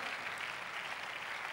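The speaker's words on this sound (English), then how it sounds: "If that clap is for Jesus, make it bigger, make it louder." A church congregation claps together in a continuous, even burst of applause filling the room, with no speech over it.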